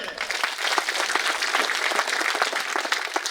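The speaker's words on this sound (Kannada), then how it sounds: "ಜೋರಾಗಿ ಚಪ್ಪಾಳೆ" Audience applause after a call for loud clapping at a talk, a dense, steady wash of many hands clapping at once, sustained at even strength throughout without pauses.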